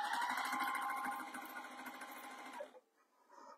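A sewing machine runs in a steady rapid chatter of stitches while sewing a bag, loud and close, then stops abruptly near the end, leaving a brief quiet with faint rustling.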